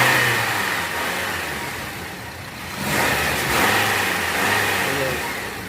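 A Honda CR-V engine revs up under the hood, with a steady mid-pitched roar that dips, then climbs again and holds. The car has a noisy alternator and belt line. No voices are heard.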